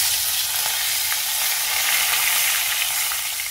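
Curry leaves hiss and crackle in hot oil with popped mustard seeds, a steady, close, dense sizzle with faint spitting pops throughout and no talking.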